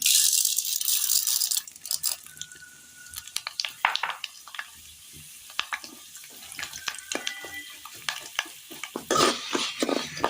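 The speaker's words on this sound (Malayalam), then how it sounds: "എണ്ണ ഒന്ന് ചൂടായി വന്നിട്ടുണ്ട്. ഇതിലേക്ക് നമുക്ക് ഒരൽപ്പം അരി ഇട്ട് കൊടുക്കാം." Rice dropped into hot oil in a wok fries with a crackling, bubbling sizzle, mixed with stirring rattles and scrapes, loud and close with no voices.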